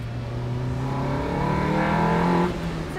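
A Series 1 Lotus Elise engine revs up from a steady drone, its pitch climbing through the rise and then easing back, heard close and alone without talk.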